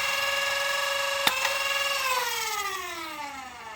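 A gun fires one sharp, quick shot through a chronograph, cutting across a steady mechanical whine that slowly winds down afterward.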